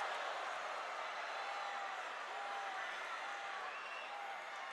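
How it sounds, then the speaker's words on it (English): Crowd noise at a high school state wrestling finals, a steady broad roar of cheering and applause filling the arena after a big throw on a mat, sustained and even throughout, with no clear single voices. "The crowd going crazy for the big throw over on mat 2"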